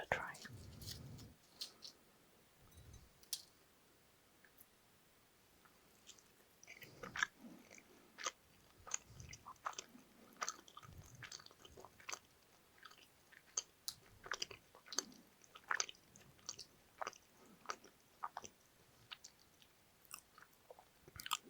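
Close, soft chewing of Brazilian chocolate truffles, brigadeiro and coconut-flaked beijinho, with small wet bites and crunchy clicks repeating steadily, quiet and intimate, with some low murmuring early on.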